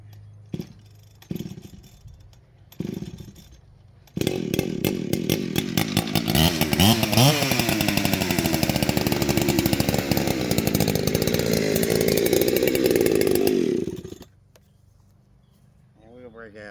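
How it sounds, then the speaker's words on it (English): A 2001 Husqvarna 372 XTorque chainsaw, after being flooded, gives a few short pulls and sputters, then roars loudly and steadily for about ten seconds with some revving before dropping to a low idle, close by. "Break out the sound of 2001 Husky 372 X-Torque."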